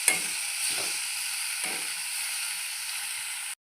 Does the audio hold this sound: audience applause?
no